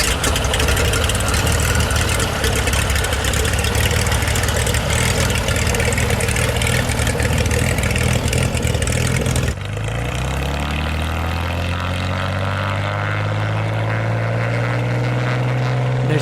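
A floatplane engine roars steadily at full power in Alaska, then a sudden change leaves a lower drone whose pitch slowly shifts as the plane takes off and moves away, loud and alone.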